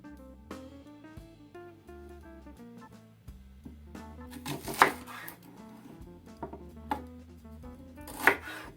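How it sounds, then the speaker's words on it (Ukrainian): Sharp knife strikes on a cutting board chopping vegetables into fairly large chunks for an eggplant salad, irregular chops with a few louder hits, over a quiet background of soft music. "Нарізаю овочі."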